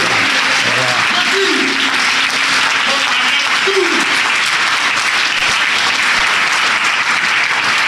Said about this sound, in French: je vais vous demander encore d'acclamer l'archevêque